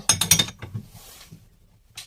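A quick run of metallic clinks and taps as a wrench locks a MacPherson strut on an Opel, close and bright, then quieter scraping and one final clink.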